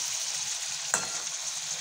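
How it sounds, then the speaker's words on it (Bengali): Eggplant and potato curry with tomato is sautéed in a pan, a continuous low sizzle carrying one sharp scrape of the stirring spoon midway. "আস্তে আস্তে করে কিন্তু তরকারিটাকে, বেগুনটা আর আলুটা কষাচ্ছি।"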